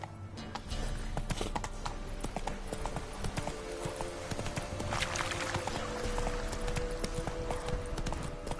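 Roach, the horse in The Witcher 3, trots with a steady, rhythmic clip-clop of hooves, close and continuous after a brief quiet start.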